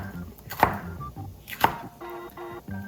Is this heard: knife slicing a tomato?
yes